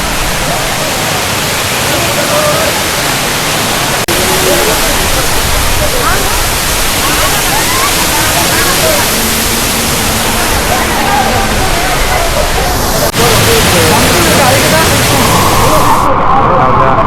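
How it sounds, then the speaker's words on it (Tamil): Masila waterfall roars as a dense, steady rush of falling water, loud and unbroken throughout with a faint voice or two buried in the noise. "மாசிலா அருவி இப்போ வந்திருக்க இடம்ங்கடா அங்கிட்டு இருக்கு"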